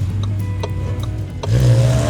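Hyundai Staria Lounge Hybrid seven-seat van pulling away, a steady low cabin hum with light clicks and taps that swells into a louder rising drone near the end, heard from inside.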